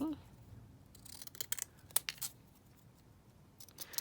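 Zigzag craft scissors snip through paper in a few quick, close, crisp cuts spaced across a few seconds, with quiet pauses between and faint handling noise.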